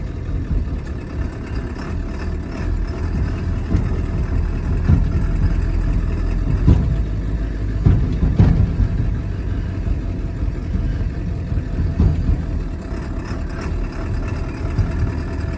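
A Ford F550 truck's heavy diesel engine drones low and steady from inside the cab while driving, a continuous close rumble with a few brief knocks and no talk.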